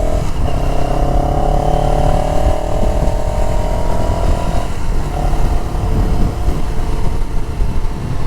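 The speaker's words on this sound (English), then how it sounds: "I don't know if you can hear the engine growl." A CFMoto CLX 700 motorcycle engine growls and drones steadily up close during a test ride, its pitch rising slightly then dropping midway, loud throughout.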